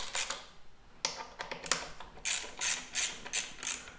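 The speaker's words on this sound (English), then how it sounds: "Now just take the caliper off and it's pretty simple." A disc brake caliper is being removed from a road bike, producing a series of close, sharp mechanical clicks and ratcheting taps from a tool on its bolts, irregular at first and then more evenly spaced.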